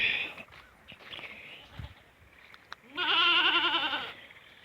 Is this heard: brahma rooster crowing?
no